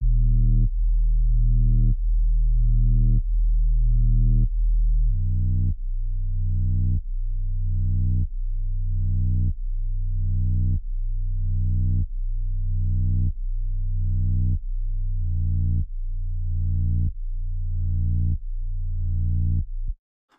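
A deep synth bass plays alone, a slow line of evenly spaced sustained notes, each swelling and fading, with a brief pitch change partway through.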